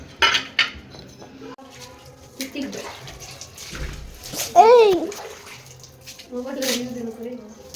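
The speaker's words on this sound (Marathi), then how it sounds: "हे स्वच्छ धुवून घेते आधी" Running water splashes over dishes and utensils with clinks of metal, while a person talks intermittently nearby.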